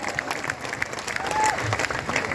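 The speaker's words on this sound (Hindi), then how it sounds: "सभी बच्चे खड़े होके एक बार RW वाले के लिए ताली बजाएंगे, बहुत तगड़ी ताली" Children at an RWA honour ceremony applaud, a steady wash of clapping that carries on throughout while an adult voice talks over it.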